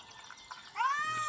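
A cat in a video game lets out a single clear, rising meow that rings out after some faint rustling, fairly close and alone, with no talk.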